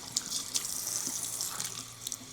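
Water running and splashing over a client's hair while it is wetted for a professional shampoo, a steady close stream with small irregular splashes and no talking.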